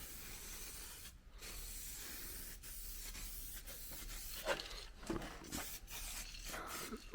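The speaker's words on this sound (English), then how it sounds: "spray it up so it seeps down in between these seams" Quiet, close hissing bursts of aerosol primer spray on a Ford Capri 3.0 body seams come in several short blasts, with faint rubbing sounds in between.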